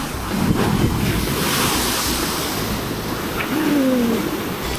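Ocean surf washes against a rocky shore during shore jigging, a broad roar of water with steady wind noise on the microphone and a faint tonal whine near the end, no speech.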